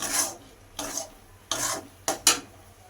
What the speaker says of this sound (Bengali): ছটা থেতো করে রাখা এলাচ তো সব কিছু দিয়ে নেড়ে চেড়ে ভালো করে মিশিয়ে নিতে হবে